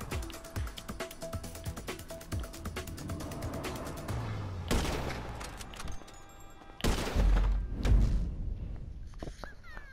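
Bursts of video game gunfire from GTA Online, rapid automatic shots at first, then a few heavier blasts and impacts, loud and close with no talk.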